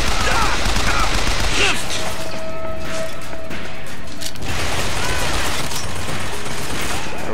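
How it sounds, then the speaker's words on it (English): Sustained loud machine gun fire in the shooter game BioShock Infinite rattles continuously for several seconds, dense and close, with a brief tonal whine from the game's effects partway through. "Because I'm using a machine gun!"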